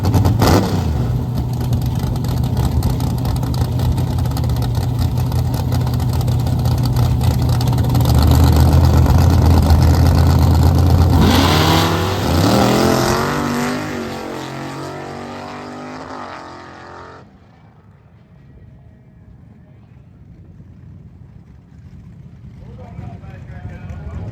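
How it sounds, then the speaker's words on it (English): A Dodge D100 pickup truck's engine roars and revs hard for several seconds during a drag race run, then fades away into the distance, leaving a quieter background. "I'll show you Petey's run in the black truck."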